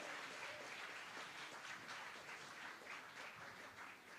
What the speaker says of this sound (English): Okay, so the biggest round of applause for all the team that has made this possible, this event possible.